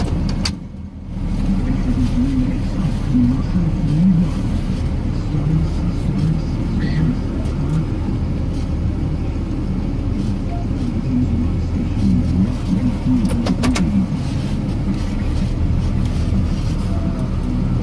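A car drives slowly through snow and turns around in a small space, its engine a steady close rumble with mild revving throughout and no talk over it.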